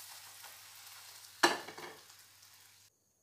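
Egg for a Goan-style omelette dropping into a hot oiled pan, with a sharp burst of sizzle at the moment it lands, then a steady crackling fry that fades before sudden silence.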